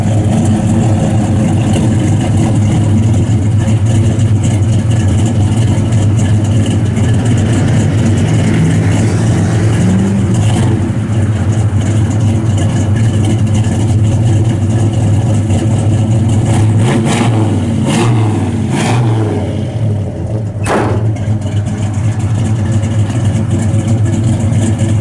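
A 1966 Chevrolet Chevelle SS 396 with a four-speed, a lively camshaft and Flowmaster mufflers idles with a loud, deep, lumpy rumble, then gives a few sharp revs toward the end before settling back.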